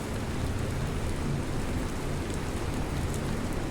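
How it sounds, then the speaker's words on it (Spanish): Light rain falls in a forest, drizzling onto leaves and gear as a constant, dense hiss with no talk. "La llovizna se hizo más espesa, golpeando suavemente contra las hojas y el equipo."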